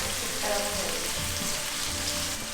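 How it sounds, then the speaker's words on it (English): Garlic and tomato sizzle in olive oil in a pan, a steady close crackling hiss that runs without a break, with no talk over it. "You let it sizzle but not burn."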